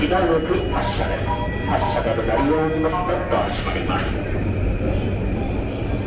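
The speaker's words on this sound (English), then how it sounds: "another Yamanote train comes in" A Yamanote line train pulls into a platform at Shinjuku Station, its steady low rumble and rising motor whine filling the busy station while voices talk over it.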